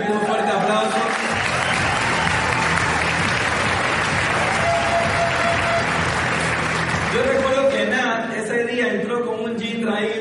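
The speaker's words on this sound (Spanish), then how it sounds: "para que también pida un fuerte aplauso." Loud audience applause fills the room continuously, with a voice speaking over the clapping toward the end as it begins to taper.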